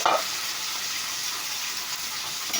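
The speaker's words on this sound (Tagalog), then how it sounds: "So, ilagay na natin itong ampalaya natin sa frying pan." Bitter gourd (ampalaya) frying in a frying pan: a loud, steady broadband sizzle that holds through the whole clip, with a brief splash-like burst at the very start and no talking.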